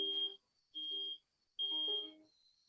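Three short electronic smoke alarm beeps sound at a regular interval, faint and fairly distant, with nothing else heard between them.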